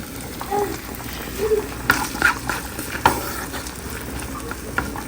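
Chopped onions dropped into melted butter in a pan for cream of corn, giving a steady soft sizzle with a few stirring scrapes and clicks throughout, moderately close.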